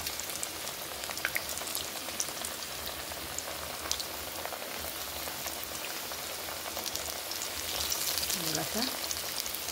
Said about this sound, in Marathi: वाफेवर उकडून घेतलेल्या टिक्की आता आपण या तेलामध्ये शॅलो फ्राय करून घ्यायच्या आहेत